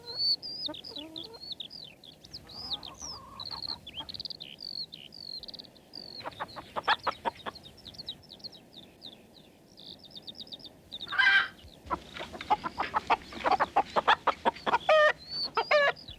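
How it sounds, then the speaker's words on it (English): Hens in a farmyard on a village morning cluck and squawk repeatedly, near and lively, in busy overlapping bursts with brief pauses between them and no one speaking. "But Mrs. Thompson's hens were wide awake"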